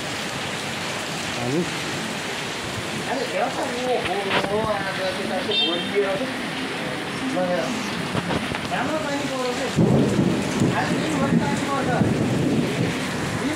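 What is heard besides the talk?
heavy rain falling with thunder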